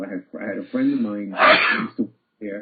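A single sharp sneeze bursts out in the middle of a man's conversational speech, loud and close, with talking continuing on either side of it.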